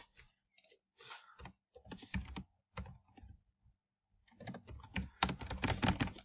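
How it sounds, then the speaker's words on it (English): Fingers type on a computer keyboard in uneven bursts of close clicking keystrokes, pausing briefly before a denser, faster run near the end. "And I'm typing bad, sorry."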